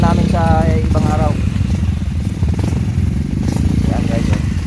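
Several new enduro motorcycles climb an uphill dirt trail on Mt. Paldingan, engines revving and popping loudly and continuously near the microphone while voices talk over them.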